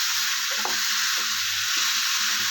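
A snake gourd chutney mixture is stirred in a pan over a steady, loud sizzle, with a few soft scraping strokes and no talk.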